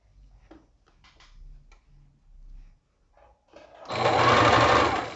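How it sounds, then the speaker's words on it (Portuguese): A sewing machine stitches bias binding around a garment neckline, a close, loud burst of rapid motor-driven stitching in the last second or so after quieter handling sounds and brief soft talk. "a própria máquina ir puxando ele naturalmente, sem você forçar"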